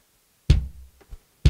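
A sampled bass drum, triggered by a live performance through audio-to-MIDI in a home recording, gives deep, punchy thumps, two strong hits about a second apart with a softer knock between, alone and close.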